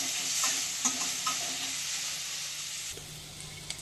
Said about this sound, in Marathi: आळं आणि लसूण किसून घेतलेली ती टाकून घ्यायचे आणि लगेचच त्याच्यामध्ये मी कांदा टाकून घेते व्यवस्थित आपल्याला परतून घ्यायचे